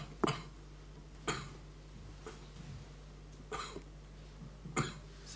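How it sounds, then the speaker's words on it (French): Five separate coughs, spaced about a second apart, each short and fairly close, over a low steady hum with no talking. "Toussez."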